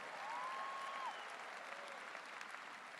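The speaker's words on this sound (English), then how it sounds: "Let's all give them a round of applause for their beautiful music today." Faint, distant audience applause for a university brass ensemble at a spring graduation ceremony, a soft even patter that holds throughout and thins slightly near the end.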